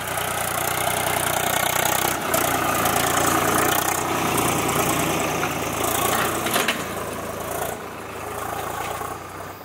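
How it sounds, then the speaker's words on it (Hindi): A tractor engine runs steadily while ploughing a field in a hilly village, a continuous close, loud diesel drone with brief dips in load and a slight fade toward the end. "पहाड़ों में ना इतना अच्छा लगता है ट्रैक्टर चलते हुए"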